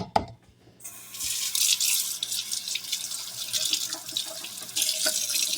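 Running tap water pours into a sink while something is rinsed under it, after a short quiet moment at the start. The flow is steady and close.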